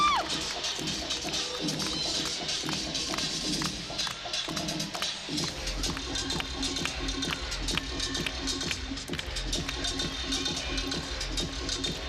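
A crowd cheers and shouts during a college gymnastics floor routine in an indoor arena, a lively roar of fans with whistles and scattered claps over music.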